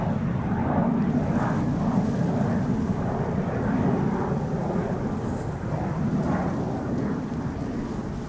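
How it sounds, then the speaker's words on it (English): KLM Boeing 777-300 wide-body airliner at Amsterdam Schiphol, a loud continuous low engine roar with rumbling, wind-buffeted texture, steady throughout. "It is a KLM 777-300 going to Bangkok."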